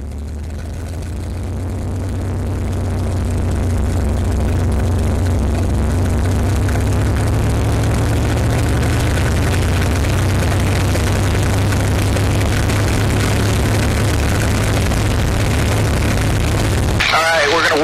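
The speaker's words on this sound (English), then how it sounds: "we're going to warm the engine up" A P-51 Mustang piston aircraft engine warming up runs at a steady, loud drone after rising in the first few seconds, with a deep constant hum and rattle.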